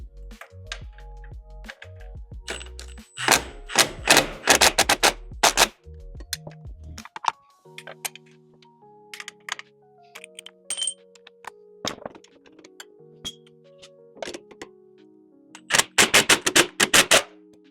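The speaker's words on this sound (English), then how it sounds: "The last thing we need to do is tighten our brackets on the hangers. We're going to use a 13mm on the back and your hex head." A 13mm wrench and hex key tighten exhaust hanger brackets on a Polaris RZR Pro R, giving bursts of rapid ratchet clicking and metallic clinks and taps, up close with quiet gaps between.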